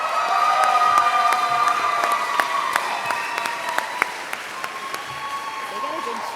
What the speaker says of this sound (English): They got a good cheering section.